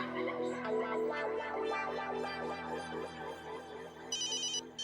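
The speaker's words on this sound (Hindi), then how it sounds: "तुम्हारा फोन बज रहा है।" A mobile phone ringtone plays, a bright melodic tune ringing continuously at moderate loudness, with a higher electronic chirping pattern joining near the end.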